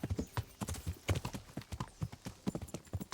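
Horse hooves clip-clop in a steady, quick walking rhythm uphill in the video game Kingdom Come: Deliverance, close and fairly quiet, with no voices over them.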